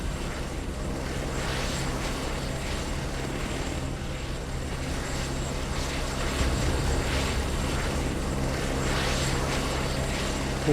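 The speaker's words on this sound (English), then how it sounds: "Cool helicopter, bro." Helicopter in the video game Ground Zero, a steady, loud rotor and engine drone that holds evenly throughout with a slight swell near the end, no talking over it.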